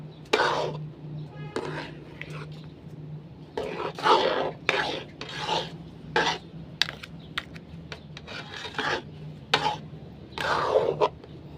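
Thick ube halaya being stirred in a pan, giving repeated scraping and rubbing strokes of a spoon against the pan, close and fairly loud, in uneven bursts with faint speech between.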